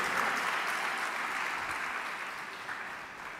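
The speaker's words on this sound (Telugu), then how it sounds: "చప్పట్లు కొడదాం" A church congregation claps together in a dense, even wash of applause that fades slowly over a few seconds, filling a large room without any speech over it.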